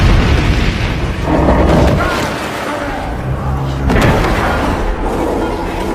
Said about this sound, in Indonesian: Ia menggunakan kekuatannya untuk membuat sebuah ledakan dahsyat.